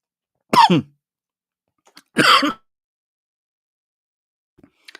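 A person coughs twice, loud and close in a quiet room, with a short gap between the coughs and only faint small noises afterward.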